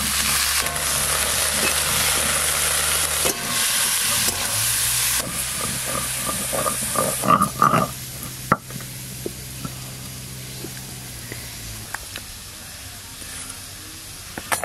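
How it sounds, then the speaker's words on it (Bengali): Cabbage and beans frying lightly in a pan, a steady close sizzle and hiss with a brief burst of utensil clatter midway, no voices. "এবার বাঁধাকপি আর বিনস একটু হালকা করে ভেজে নেব।"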